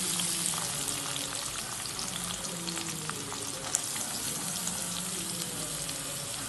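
Onions frying in hot oil with mustard seeds and curry leaves give a continuous, even crackling sizzle, close and fairly loud, with no voices over it.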